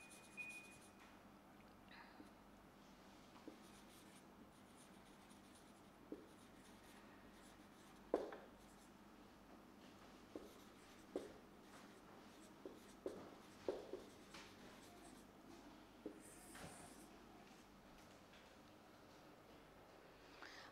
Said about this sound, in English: I will just write down doctor's instructions